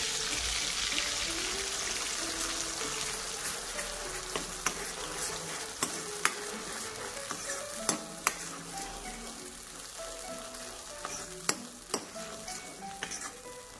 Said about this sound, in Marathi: आता भाजीला मी फोडणी देत आहे